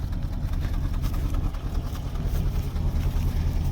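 Engine of a 1964 Dodge sedan running, a steady low rumbling idle with a dense, even throb, close and continuous without any change in pitch.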